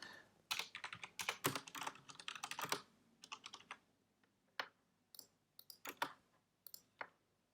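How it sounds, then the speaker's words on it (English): Computer keyboard keys are pressed close up in quick irregular bursts of crisp clicks, a dense flurry at first, then sparser single taps and short clusters; no voices. "So I assume you can hear me pressing my key"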